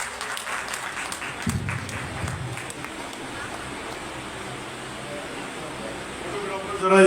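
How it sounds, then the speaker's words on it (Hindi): Steady, hissy applause from a crowd at a Partition Horrors Remembrance Day event, heard as a continuous wash of distant clapping with a voice briefly speaking over it. "जोरदार तालियां इसके लिए होनी चाहिए।"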